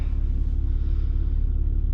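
A Z car's engine idling while stopped, a steady deep rumble with a low throbbing pulse, close and continuous without revving or talk.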